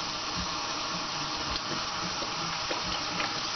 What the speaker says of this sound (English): gotta wash her hands quick again